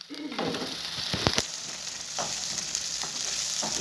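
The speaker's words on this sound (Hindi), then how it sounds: "अच्छे से फ्राई करके इसका पानी थोड़ा सुखा देना है ताकि तेल ऊपर आ जाए और पानी सूख जाए।" Mustard greens for sarson ka saag fry in a pan with tomatoes and salt, giving a soft, continuous sizzle punctuated by a few sharp stirring clatters and scrapes.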